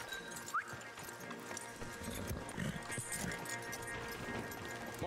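Arabian horse hooves clip-clop in the video game Red Dead Redemption 2, a faint, uneven patter of steps over quiet ambient game sound.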